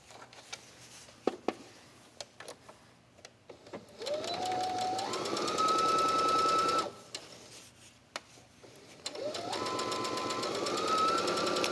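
A sewing machine stitches quilted fabric for a tablet case, two sustained bursts of rapid mechanical whirring separated by a short pause, preceded by a few soft clicks and taps, close and alone.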